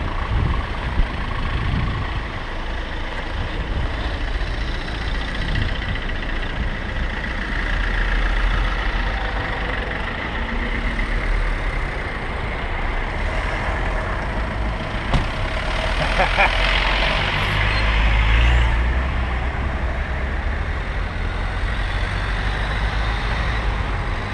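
Cars and trucks passing on a road in Normandy or Brittany, a low steady engine rumble with one vehicle swelling louder as it goes by, heard from the roadside while people talk.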